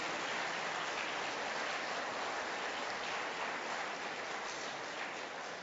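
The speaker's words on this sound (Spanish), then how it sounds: "esta asamblea se merece un fuerte aplauso" An assembly audience claps steadily in a dense, even wash of applause that holds at a constant level throughout, with no distinct voices above it.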